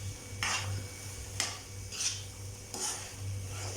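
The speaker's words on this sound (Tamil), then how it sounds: "இப்போ நம்ம இதில் வேக வச்சு வடித்து வச்சுருக்க சாதத்தை சேர்த்துடலாம். நல்லா மிக்ஸ் பண்ணி விட்டுடலாம்." A spoon stirs cooked rice into a tamarind rice (puliyodharai) mix in a pan, making four distinct scraping, swishing strokes over a low steady hum. The strokes are close, and no one speaks.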